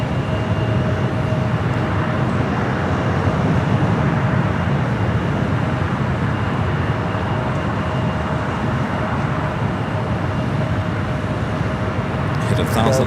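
An 11-year-old Aeromexico Boeing 787-8 Dreamliner arriving at LAX from Mexico City, heard as a loud, steady broadband jet roar that holds for the whole stretch, with a faint tonal whine running through it.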